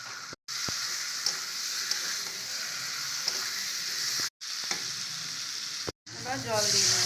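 Potatoes frying in cooked spice masala for an egg and potato curry, a steady close sizzle with stirring scrapes, broken by a few brief silent cuts and ending in a louder crackle.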